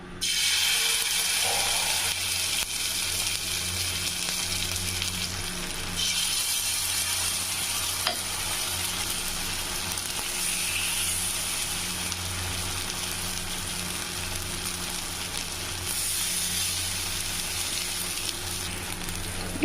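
Rava dosa batter poured in small amounts into hot oil in a pan sizzles and fries steadily and loudly throughout, a continuous crackling hiss with no voices.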